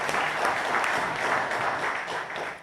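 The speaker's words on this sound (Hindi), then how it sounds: "मैं चाहूंगा इनके लिए फिर एक जोरदार ताली बजा दें।" An audience gives a steady, loud round of applause at a public gathering, many hands clapping continuously in a dense, even roar without a break.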